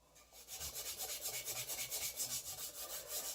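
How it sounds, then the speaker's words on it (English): A rag rubs polish across the chrome front fender of a 1981 Yamaha XS850 Special motorcycle, a quiet, close rhythmic back-and-forth rasping of even strokes repeating about every quarter second. "sometimes you need a rag to be able to wipe off some of the excess"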